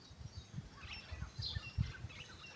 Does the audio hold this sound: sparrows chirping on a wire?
yes